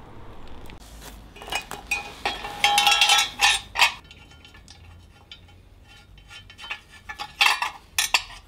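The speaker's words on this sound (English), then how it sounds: "that's the heat shield, and we will just insert or reinstall that" Motorcycle exhaust heat shield on a Triumph Bobber Black being fitted back on, with irregular bursts of light metallic clinks and taps, clustered and sporadic, close by over a quiet background.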